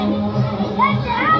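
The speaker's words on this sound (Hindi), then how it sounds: "यहाँ पे सब बच्चा पार्टी की भीड़ लगी पड़ी है" A crowd of children chatters and shouts at a Janmashtami celebration at a temple, steady close babble with someone speaking over it.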